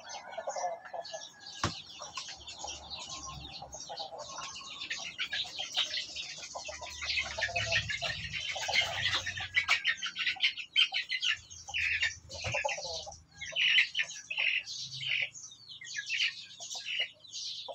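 One-month-old upgraded native chicks peeping and chirping close by, with a soft rustle and flutter of handling, busy overlapping high cheeps throughout.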